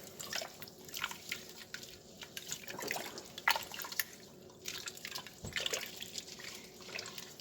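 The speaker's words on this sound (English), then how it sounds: "we're going to stir it up" Ham and bean soup is stirred in a pot, with wet sloshing and liquid clinks in irregular strokes, close and moderately loud.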